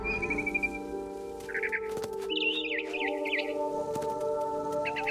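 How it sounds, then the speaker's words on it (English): Short bursts of high, twittering chirps from a barn swallow in the game What Remains of Edith Finch, repeated several times over a low, steady ambient hum with no voices. "Then I heard chirping outside my window. It was a barn swallow going back to her nest."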